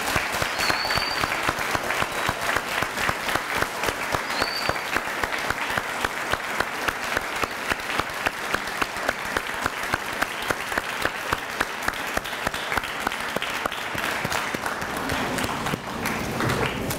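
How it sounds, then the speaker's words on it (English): An audience at a school Veterans Day assembly claps in sustained applause that runs unbroken, moderately loud, and slowly thins toward the end. "give a round of applause and thanks to all of our veterans who are currently here today"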